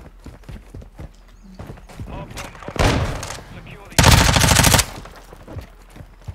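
MP5 submachine gun fire in Modern Warfare 2 comes as two loud, rapid automatic bursts, the second longer and louder, with game sounds and talk around them.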